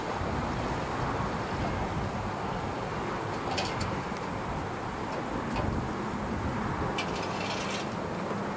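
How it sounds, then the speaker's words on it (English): A fast motorboat passes on the water near a boat ramp, a steady faint rushing engine and wash noise blended with wind and water sounds, with no speech. "That's a nice fast boat."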